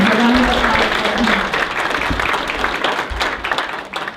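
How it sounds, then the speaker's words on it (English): An audience at a clean water town hall applauds with dense, steady clapping that fades gradually, while a voice speaks over it. "A round of applause"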